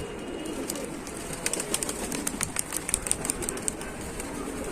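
Pigeons in a racing loft give soft low cooing while wings flap in quick bursts, a run of sharp flutters clustering in the middle of the stretch, fairly faint against a steady background hiss.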